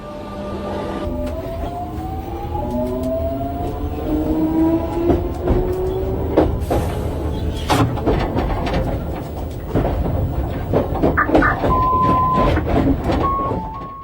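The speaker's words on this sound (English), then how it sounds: "Our Jubilee Line train is of 1996 stock" A 1996 stock Jubilee Line train in Roblox pulls away with a rising electric motor whine over rhythmic rail clatter, loud and close, with a few brief electronic beeps toward the end.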